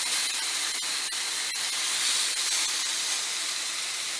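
Oxtail sears in a hot pan for Jamaican country-style oxtail, a constant close hiss and sizzle with occasional sharp crackles and pops, no voices.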